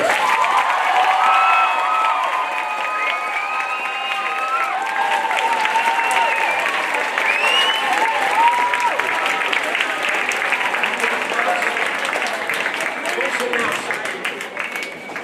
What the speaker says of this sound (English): That's on this stage right now deserves a huge round of applause.